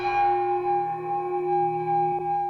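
An ancient Chinese bronze bell rings out in a single sustained tone with bright overtones, slowly decaying, with a faint second strike near the end; no voices.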